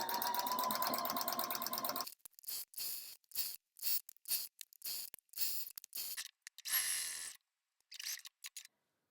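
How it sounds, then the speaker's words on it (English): A sewing machine stitches along a shirt, running in a steady close whir for a couple of seconds and then in short stop-start bursts of stitching separated by silence. "I just keep going the whole length of the shirt or jacket."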